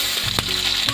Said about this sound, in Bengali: নারকেলটা ভাজা ভাজা করবো